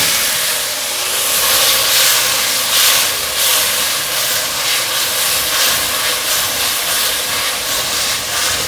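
Tomatoes stir-fried with minced ginger and celery in a hot wok give a steady, loud hissing sizzle that holds evenly throughout, with no talking over it.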